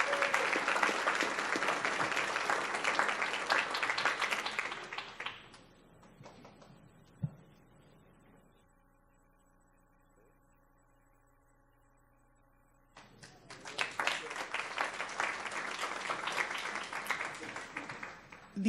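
Audience applause at a school board meeting, a sustained round of many hands clapping that dies away, a stretch of near silence with a single knock, then a second full burst of clapping.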